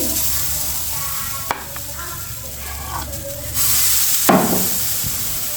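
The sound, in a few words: batter frying in a wok on medium-low heat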